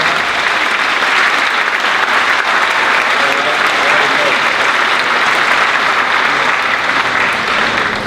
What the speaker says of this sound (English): Will they please stand up and give them a round of applause?